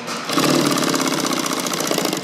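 Upholstery sewing machine running a seam, a loud, close, continuous motor whir with rapid, even needle chatter throughout.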